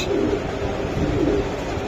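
Soft, low coos from a racing pigeon repeat a couple of times against a steady background hum.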